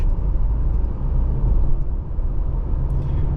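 A 2024 Subaru Crosstrek Sport accelerating up onto the highway, with a steady, loud low road-and-engine rumble heard from inside the cabin and no break throughout.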